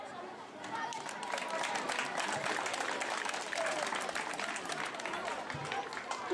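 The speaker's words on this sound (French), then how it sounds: "Encore merci et tous nos applaudissements." An audience at a French school solidarity lighting event claps in a sustained, moderate round of applause, with murmured chatter and voices mixed in throughout.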